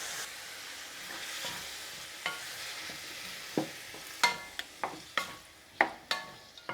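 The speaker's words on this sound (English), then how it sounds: "Now goes in the tomatoes." Tomatoes hitting a hot spiced pan for tomato chaat, a close sizzle with repeated sharp clacks of stirring and scraping at an irregular rhythm.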